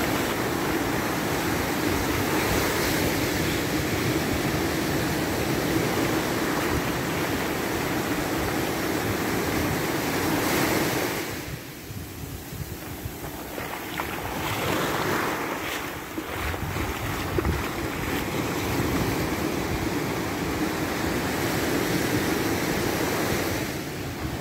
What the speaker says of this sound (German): jetzt wieder ganz ruhig das Wasser, eine Welle, überhaupt kein Problem